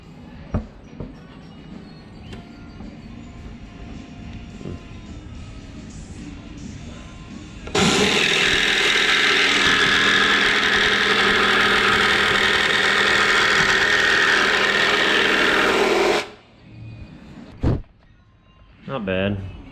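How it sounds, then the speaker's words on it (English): A jigsaw trims a wooden board, a loud buzzing cut lasting about eight seconds that starts abruptly and then stops, with someone talking before it and a few knocks after. "is I'm going to use a jigsaw"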